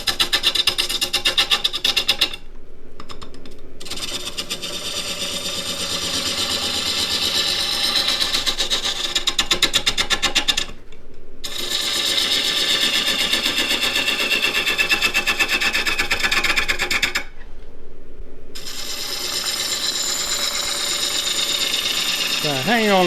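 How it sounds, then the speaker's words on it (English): A large wooden chess pawn turning on a small lathe, with a dense, rapid chattering scrape of the tool against spinning timber, loud and close, in long runs broken by three short pauses; no speech. "Not trying to push the tool into the wood, just let the wood come onto the tool."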